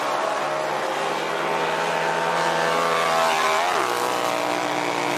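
A Harley-Davidson motorcycle revving hard and taking off in a snow hill climb race at the X Games: a loud, sustained engine roar that climbs in pitch, then drops sharply near the end.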